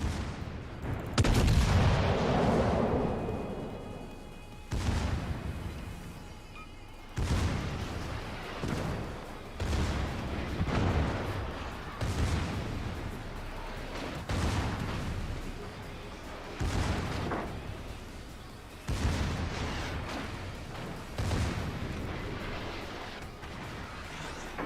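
Naval gunfire in the World of Warships game: a warship's main guns and secondary batteries fire repeated heavy booms, each blast followed by a rumbling decay, spaced every few seconds across a long sustained barrage.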